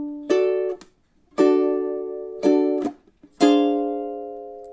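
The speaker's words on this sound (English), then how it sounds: "So measure 13 in time should sound something like this." Ukulele strumming a blues chord phrase in time: four bright strummed chords, each ringing briefly before a sharp mute, evenly spaced and close, with no voice.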